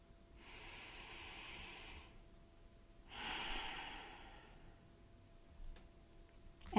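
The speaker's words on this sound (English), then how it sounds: "take a moment to pause and take a breath" Two slow, soft breaths, each drawn out over about two seconds with a pause between them, close and alone in a quiet room, the sound of someone pausing to take a calming breath.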